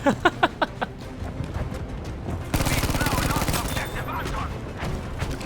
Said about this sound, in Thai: มีคนยิงมาด้วย